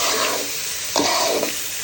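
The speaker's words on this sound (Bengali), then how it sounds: "একটু ভাজা ভাজা করে নিচ্ছি" Washed short-grain rice being stir-fried in a pan for khichuri, a steady loud sizzle broken by a few scraping stirs of the spatula, with no talking.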